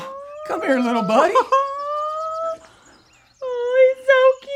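A voice imitates a penguin calling with long, wavering, howl-like cries, then a break and more rising calls, loud and close.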